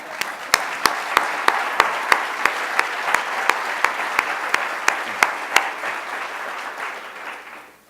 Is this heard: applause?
yes